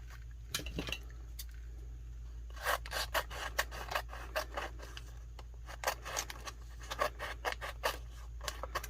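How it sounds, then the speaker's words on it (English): Scissors trimming a sheet of Koala printable vinyl: quiet, crisp snips and rasping cuts come in irregular bursts, with a short snip early on and then a denser run of cuts. "I'm just gonna go for it and trim up the bottom the way I did the other one"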